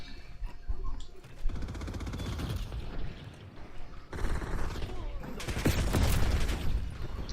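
Video game gunfire crackles in rapid bursts and fusillades, mixed with mechanical clatter and a voice talking, growing denser and louder toward the end.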